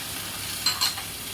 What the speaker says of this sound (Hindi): 8-10 काजू है। इसे मैं भून लेती हूँ।